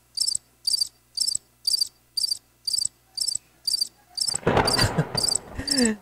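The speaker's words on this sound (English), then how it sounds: "Crickets." Crickets chirp in a steady, evenly spaced rhythm of short pulsing bursts, with a rumbling noise swelling up behind them near the end.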